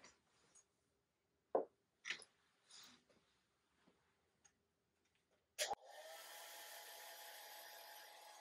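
A few soft taps and clicks sound in a quiet room, then a hair dryer switches on abruptly and blows with a steady, loud, close whirr while drying a watercolor painting of a wood duck.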